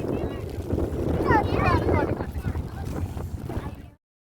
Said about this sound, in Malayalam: നല്ല കാറ്റാണ്, നല്ല കാറ്റാ.